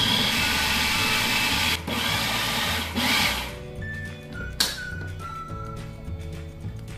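A blender purées a pumpkin filling with sugar, a loud steady whirring whine that cuts out partway, leaving quieter mechanical clicks and a brief clatter.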